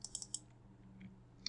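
A few quiet computer keyboard keystrokes while a Figma dropdown design is being edited, several close clicks at the start and one more near the end, faint over low background hum.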